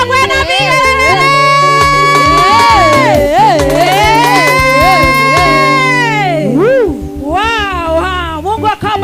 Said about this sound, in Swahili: Tupigie Bwana makofi, shangwe na vigelegele